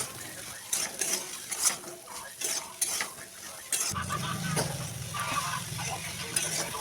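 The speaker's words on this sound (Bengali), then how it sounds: "কড়াইতে তেল দিয়ে পেঁয়াজ, রসুন, আদা, লঙ্কা, অল্প বাদাম নেড়ে চেড়ে একসঙ্গে নুন দিয়ে ভেজে নেব।" Onion, garlic, ginger, chilli and peanuts stir-fried with salt in oil in a wok, with scraping and clinking of a spatula early on, then a loud, continuous sizzle close by.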